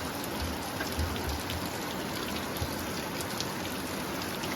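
Steady rain patters continuously and evenly, a dense close hiss of drops with no voices.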